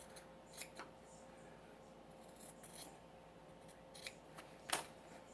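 Scissors trimming quilt binding fabric, a few faint, sparse snips and rustles close by in a quiet room, with one sharper cut near the end.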